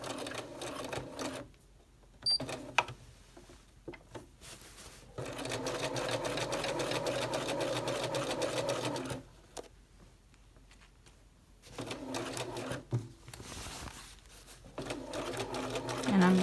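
A sewing machine stitches a skirt around a curve in bursts of steady mechanical whirring, stopping and restarting several times as the needle is set down to pivot, with a voice talking in the pauses.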